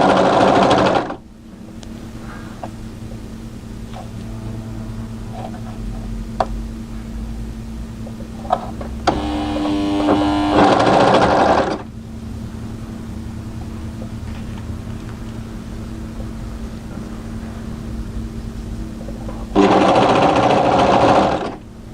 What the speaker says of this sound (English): Now just continue to overlock around, making sure those positions that you pinned are anchor points